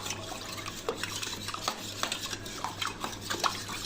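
A spoon stirs Tang orange drink powder into water for sharbat, with soft repeated scraping and light clinks against the glass or jug and a faint liquid swirl, steady and close with no talking.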